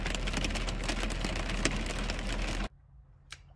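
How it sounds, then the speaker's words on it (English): Hail falling outdoors, a dense, loud, steady patter of hard pellets that cuts off abruptly near the end, leaving near silence with one brief sound. "It's actually hailing now, so I'm glad I got those boxes inside."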